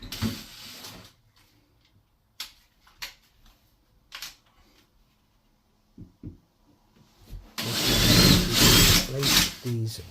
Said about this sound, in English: I'm just using a small 7mm drill on the marks that I made.